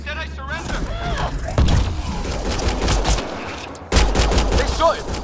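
Rapid volleys of gunfire from a firefight in the video game Mass Effect: Andromeda, set on Habitat 7, loud and dense throughout, with shouted voices layered over the shooting.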